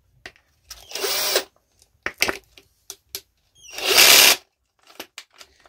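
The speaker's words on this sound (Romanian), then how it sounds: "autofiletanda sau bormașina pe acumulator." A cordless drill whirs in two short bursts, revving up and slowing while driving a self-tapping screw, with clicks and knocks of handling in between.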